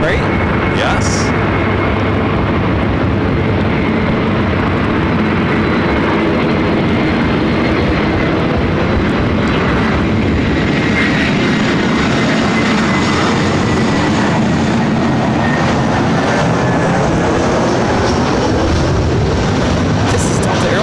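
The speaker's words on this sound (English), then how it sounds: "This is Delta Airlines 2830 coming in from Seattle on the A321." A Delta Airlines A321 arriving from Seattle and landing at LAX, producing a loud, continuous low engine rumble throughout, with a voice talking over it.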